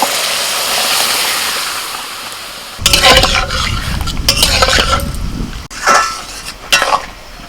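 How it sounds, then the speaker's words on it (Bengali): A soft hiss gives way to a loud wet slop as boiled lentils go into a pan of softened tomatoes, then scraping and stirring with sizzling and utensil knocks. "এখন সিদ্ধ ডালটা দিয়ে দিচ্ছি"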